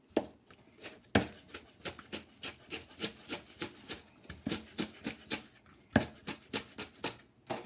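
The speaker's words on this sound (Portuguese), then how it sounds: "eu vou picar aqui uma cebola" An onion being chopped for farofa: a rapid, irregular run of sharp knife taps on a board, close but fairly soft, with no voices.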